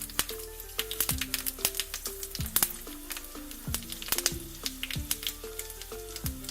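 Mustard seeds and fenugreek seeds crackle and pop in a tablespoon of hot coconut oil, with dry red chilies in the pan. The seeds pop sharply and irregularly over a steady background sizzle, with no voices.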